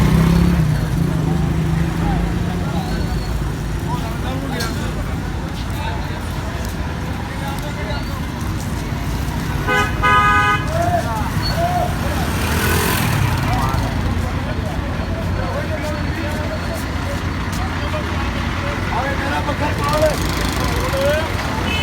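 Buses and cars pull out of the General Bus Stand in Faisalabad at night, with a steady wash of engines and traffic, a brief horn-like tone near the middle, and voices throughout.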